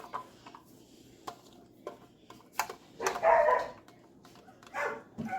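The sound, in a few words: dogs barking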